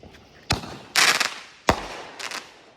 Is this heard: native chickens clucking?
no